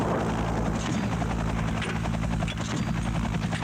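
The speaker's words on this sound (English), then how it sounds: "An Afghan Air Force Mi-8 attack helicopter arrives." An Afghan Air Force Mi-8 helicopter arriving, its rotor and turbine noise a steady, loud, close drone with a rhythmic blade thump throughout, no voices.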